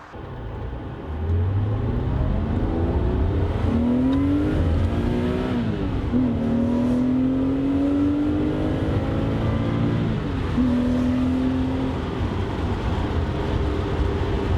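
A 1971 Porsche 911T engine accelerates, its loud, close drone climbing steadily in pitch, dropping back briefly at each shift and then rising again with no talk.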